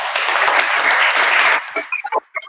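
An audience bursts into loud applause, a dense steady clapping that carries on, then thins to a few scattered final claps.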